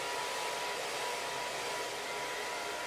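A T-360 Smooth-air hair dryer blows continuously while hair is blowdried and smoothed, a steady, even airy whoosh with a faint motor whine throughout and no talking.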